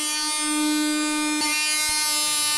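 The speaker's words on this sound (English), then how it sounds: "let's get it all sanded down" An electric sander works over cheap, peeling plywood inside a van being converted, giving a loud, steady buzzing hum with a couple of brief scraping bumps as it moves across the board.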